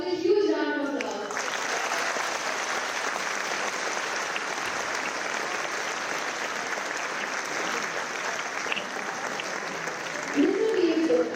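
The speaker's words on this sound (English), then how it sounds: "Please welcome Mr. Piyush Gupta with a huge round of applause." A lecture audience gives a sustained round of applause to welcome a finance executive, dense and even for about ten seconds, with a voice briefly heard at the start and end.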